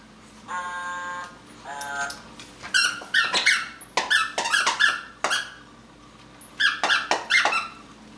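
A dog squeezes a squeaky toy at home on Christmas Eve, making a burst of repeated high squeaks, some long and wavering, others short and clustered, close and loud, with people talking faintly in the room.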